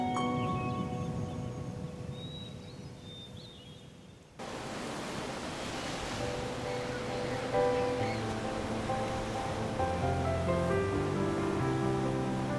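Ocean waves wash and surge in a steady broadband roar, with a faint wind-like hiss at first, then a fuller, louder surf sound, and soft tonal music underneath.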